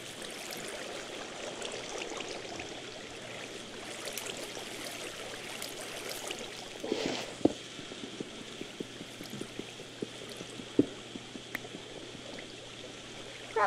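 Flowing water in a Minecraft-style block game runs as a steady, continuous rush throughout, with scattered faint clicks and taps over it.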